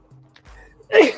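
A single sharp human sneeze bursts out near the end during a live chat, preceded by a brief hum and quiet vocal sounds, close and loud.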